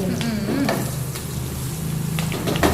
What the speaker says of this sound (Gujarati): હવે હિંગ એડ કરી અને આ લસણ આમાં એડ કરી દેવાનું અને થોડું લીમડું